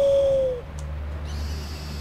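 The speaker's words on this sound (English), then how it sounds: "Press to call your owl." An owl in the video game Far Cry Primal gives a single clear, gliding hoot at the start, followed by a quiet low game ambience with faint soft sounds.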